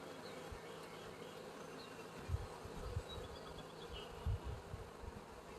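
Honey bees buzz steadily around an open hive during an inspection, a dense continuous drone close by with occasional handling bumps and no talking.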